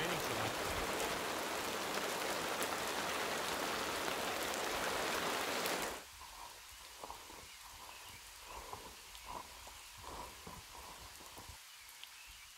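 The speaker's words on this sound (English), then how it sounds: "it's been raining so much" Heavy, dense rain pours for several seconds, then cuts to lighter scattered drips and patters on a surface, in the Algonquin backcountry in late summer.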